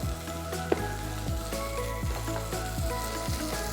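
Apples fry in a hot pan with brown sugar, giving a steady close sizzle that stays even throughout, with no one speaking.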